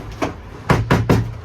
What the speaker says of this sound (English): All right, I'm hanging this left door now.